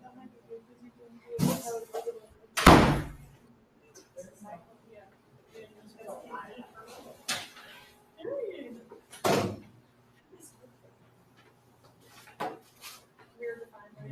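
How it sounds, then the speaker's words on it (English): A door is pulled shut in a room full of people, with a few sharp, loud bangs and knocks spread through the stretch amid quieter shuffling and background voices. "Hey, close the door."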